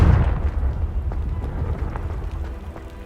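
A Confringo fire spell blasts in Hogwarts Legacy, a heavy booming burst that rolls into a long low rumble, loud and close, fading slowly over a few seconds.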